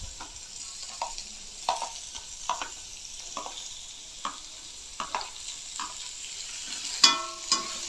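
Chopped carrots, cut into small strips, being stir-fried in a pan, with repeated scraping stir strokes over a steady soft sizzle, close and moderately quiet with no talking.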